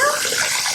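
Running water splashes steadily into a container as a live crab is placed in it for cleaning in a home kitchen. The rushing sound is close and continuous and comes through alone.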